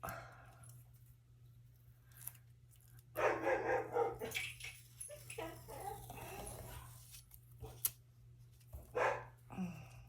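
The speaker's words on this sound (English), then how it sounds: "Always find something to bark about." Dogs barking at a distance in a home setting, with several irregular bursts and a steady low electrical hum underneath, while no one speaks over them.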